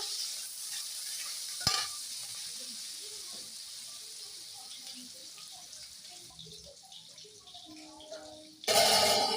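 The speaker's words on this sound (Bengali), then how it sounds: "এই তেজপাতা 4-5টা দিয়ে দিলাম, দিয়ে নেড়ে দেবো" Dried chillies and bay leaves frying in a pan on a gas stove while being stirred, a low sizzle under scattered scraping clatter, with a sharp spatter near the start and a loud burst of frying at the end.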